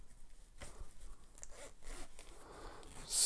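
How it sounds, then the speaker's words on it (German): Zipper on the fabric cover of a ZAMAT NekGenic cervical traction neck pillow being pulled open, a close, quiet run of scratchy rasps across the clip with a louder burst right at the end. "Wir haben hier einen Reißverschluss dran."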